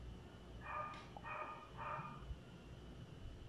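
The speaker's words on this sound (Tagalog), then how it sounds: "May aso." A dog barks three times at an even pace, faint and distant over a low background rumble.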